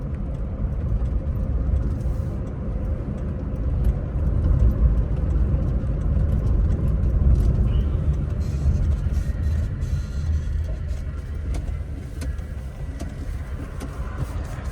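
A Suzuki Cultus Limited Edition hums along with a low, steady engine and road noise from inside the cabin while driving and turning, fairly quiet and without speech.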